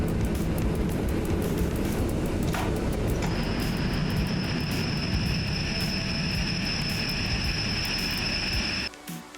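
An EN57 electric multiple unit coasting in Simrail, a steady rolling rumble and track noise with a sustained high whine joining partway through, then dropping away abruptly at the end.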